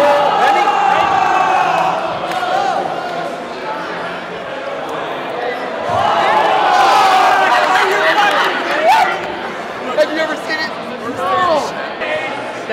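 A large crowd at the All In Summit chatters continuously, a dense murmur of many overlapping voices with occasional louder calls and shouts rising out of the din.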